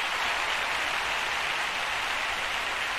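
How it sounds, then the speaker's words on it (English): Dense, steady roar of a cheering crowd in a volleyball video game, loud and continuous with no voices standing out, filling the whole stretch like heavy broadband noise. "Crowd going wild."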